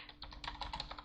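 Someone types a command on a computer keyboard in Aardwolf MUD, producing a quick run of close, crisp key clicks in an even rhythm, fairly quiet, with no talking.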